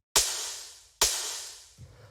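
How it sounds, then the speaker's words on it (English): Two electronic snare hits from a fast techno track, sharp and bright with noisy tails that fade over most of a second each, evenly spaced, with a faint low thump entering at the end. "After that, we have the snare, which sounds like this."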